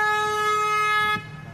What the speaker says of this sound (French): Ah, c'est en face qui klaxonne.